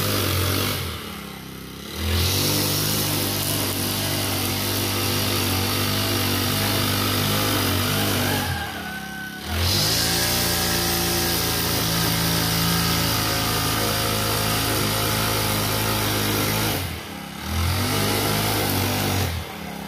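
A grass cutter's engine runs loud and steady nearby, dropping briefly twice as the throttle eases, then revving back to a strong buzzing drone.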